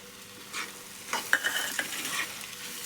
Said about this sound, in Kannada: ಈಗ ನಾನು ಶೇಂಗಾ ಹುರಿದು ಪುಡಿ ಮಾಡಿ ಇಟ್ಕೊಂಡಿದ್ನಲ್ರಿ, ಅದನ್ನು ಹಾಕ್ತೀನಿ ನೋಡ್ರಿ